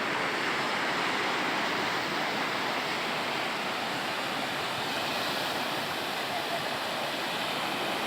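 Waves wash in on a bay seashore under cloudy skies, a steady, close roar of surf with no breaks, and a faint voice barely rising above it.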